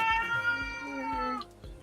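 A house cat meows several times in a row, short plaintive calls close by and moderately quiet, with a faint background hum and no clear talk.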